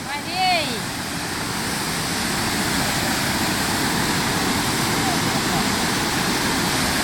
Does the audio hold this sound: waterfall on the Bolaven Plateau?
yes